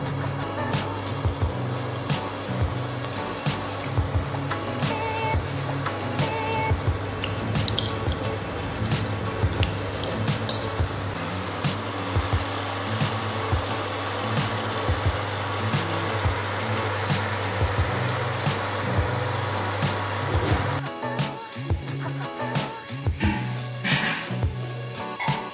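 Karasev gram-flour dough sizzles in hot oil, a dense, steady crackling hiss that runs on without a break, close and fairly loud, thinning out slightly near the end, with no talk.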